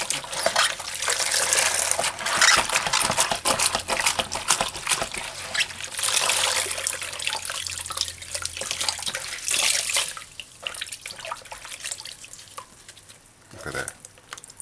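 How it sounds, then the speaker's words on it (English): Tap water runs steadily while king fish is rinsed in a kitchen sink, a close, constant splashing rush that eases after about ten seconds, with a brief clatter near the end. "Alright, so let's rinse this out."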